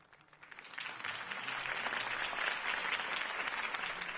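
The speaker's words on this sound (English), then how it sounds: "If only Mr. Wayne, my campaign's largest backer, could have heard that applause" A crowd applauds after Harvey Dent's campaign speech in a Batman video game. The clapping swells from quiet within the first second into a loud, sustained roar of many hands, with no talk over it.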